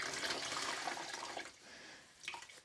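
Running water from a tap pours over ice-dyed socks being rinsed, a soft splashing flow that eases off midway, then briefly surges again.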